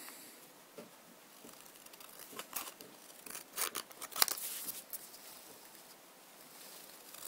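Scissors snip and crinkle through thin puffed metal sheet while a flower design is cut out, a run of close, quiet crisp cuts and rustles that build to a few sharper snips before fading.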